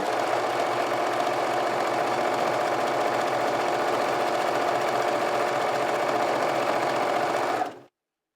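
Bernina 330 sewing machine stitching a satin stitch: a steady, fast mechanical whirring hum, close and continuous for several seconds, then stopping abruptly, with no voices.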